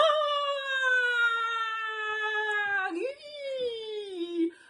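A person imitates a long, wavering dingo howl, sliding gradually downward in pitch, then a second shorter howl, loud and close.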